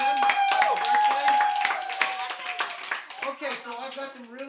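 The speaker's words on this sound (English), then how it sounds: "Let's everybody clap for them." Group of children clapping at a birthday gathering, scattered uneven claps mixing with voices and chatter, fairly close, thinning out toward the end.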